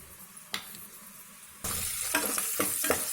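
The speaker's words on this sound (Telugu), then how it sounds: "ఆనియన్స్ వేగుతున్నాయి కదా" Onions frying in a pan while cooking mutton masala with potatoes, a steady close sizzle that swells loudly after a quiet start, with a few sharp stirring scrapes through it.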